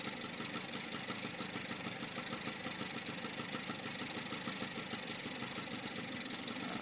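A black Yamaha QT50 moped sits idling outdoors in chilly air, its carburetor still in need of adjustment. The small engine gives a steady, even, close-up drone throughout, with no voices.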